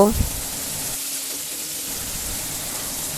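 Potatoes fry in hot oil with onions in a pan while a Bengali hilsa curry with long beans is cooked, giving a steady close sizzle that runs without a break, a brief clatter coming at the start.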